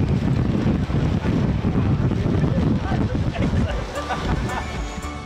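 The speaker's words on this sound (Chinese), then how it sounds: "不过今日天气就麻麻地，有微雨兼且大风，江文蔚、何思培等运动员唯有一路坐车一路整理仪容" Strong wind buffets the microphone during an outdoor bus parade in light rain, a loud continuous rushing roar that eases slightly toward the end.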